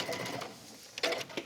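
A sewing machine stitches the gathered waistline of a wrap dress in two short bursts of rapid mechanical chatter, close and moderately loud, with a quiet pause between.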